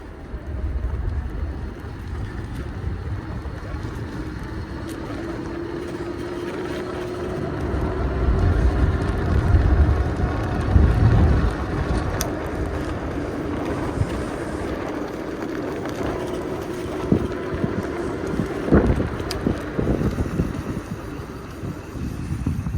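Macwheel MacMission100 e-bike, a $700 model, riding under throttle with a big rider aboard: a steady low motor hum and whir runs throughout, buried in heavy, gusting wind noise that swells near the middle.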